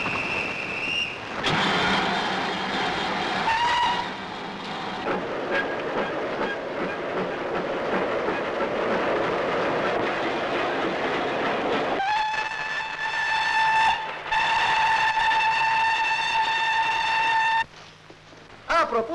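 Train cars rolling through a station in a 1962 Romanian film, a steady loud rumble and clatter with tonal whistle-like squeals of wheels or brakes near the end, no talk.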